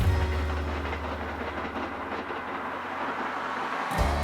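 A Rail Runner diesel commuter train runs steadily along the tracks, a loud continuous rumble with rolling wheel noise that holds throughout and shifts briefly near the end.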